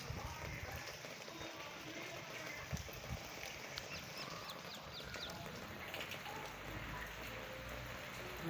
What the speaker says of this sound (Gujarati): આજ રાતનો તો સારો આવી ગયો વરસાદ, અને હજી પણ ચાલુ જ છે. અત્યારે થોડોક ધીમો પડી ગયો છે